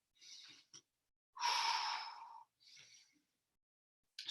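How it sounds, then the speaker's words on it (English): Breathing during a guided upper-back stretching exercise: a few close, soft breaths, including one longer audible exhale, separated by quiet gaps, with no talking. "Again, keep breathing here."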